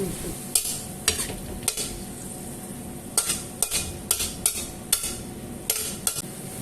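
Boiled bamboo shoots stir-fried with curry paste and minced pork in a pan, a steady close sizzle broken by repeated sharp scrapes of a spatula against the pan at an uneven rhythm, with no talking.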